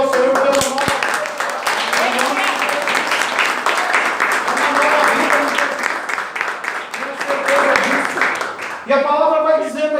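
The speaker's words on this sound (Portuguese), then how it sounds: "Pode aplaudir o Senhor pelo nome" Church congregation applauding during a worship service, a steady roar of clapping under a preacher's voice, with a singing or chanting voice rising at the end.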